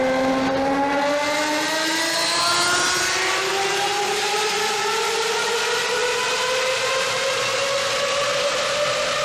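A Mercedes W140 S600 with its V12 and aftermarket exhaust pulls hard, a loud, smooth rising wail climbing steadily through the revs for several seconds, close and unbroken with no talking.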